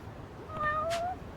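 A cat in the Lost Judgment video game gives one short, faint meow while being petted, set against a quiet background.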